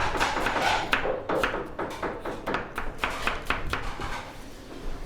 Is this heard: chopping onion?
yes